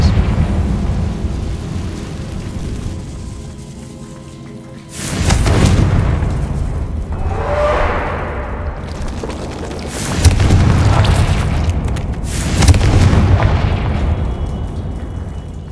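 The Confringo fire spell in the video game Hogwarts Legacy blasts with loud booming explosions, a heavy roar repeated three times with rumbling tails between them.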